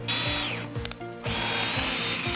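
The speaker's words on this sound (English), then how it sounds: "See how easy it goes through." A Forte electric drill fitted with a Grip 99 titanium bit whines loudly at full speed, drops out briefly for a second and then spins up again, steady and close.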